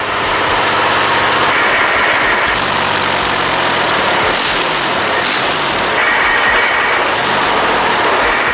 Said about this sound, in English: the V55 V12 diesel once used in the T55 tank